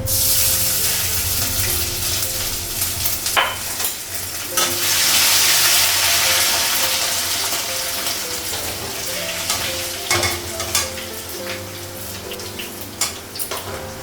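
A vegetable curry of eggplant, long beans and potato sizzles and fries in a pan with ginger paste, a steady close hiss broken by repeated scraping stirs and clinks throughout.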